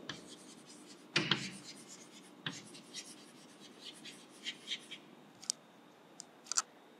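Pen or pencil writing numbers by hand during a maths lesson, heard as quiet intermittent scratchy strokes and taps, close and soft, with no talking over them.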